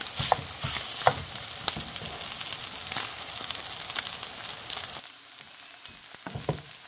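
Rice and egg stir-fried in a pan give a steady sizzle broken by scraping and clanking strokes of the spatula, close up, without any talking.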